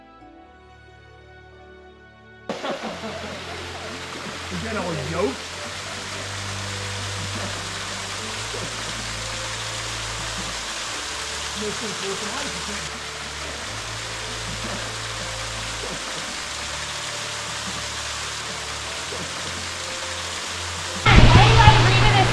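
Waterfall and river at Salmon Creek in Big Sur, a steady broadband rush of falling water that swells louder near the end, with people talking over it throughout.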